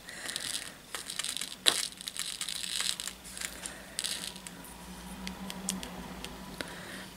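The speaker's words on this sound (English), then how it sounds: "So let's open the sprinkles, see if I can get them out of here." Candy sprinkles shaken and rattled out of their container, a patter of small dry bits tumbling and clicking, close and moderately loud with scattered sharper taps.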